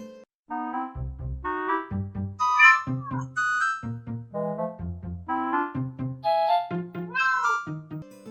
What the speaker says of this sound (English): a special message from Lucky, the like and comment kitty.